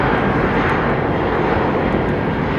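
Jet engines of an Airbus A320 at London Heathrow give a loud, close, continuous roar with a dense rumbling low end, steady throughout with no voices.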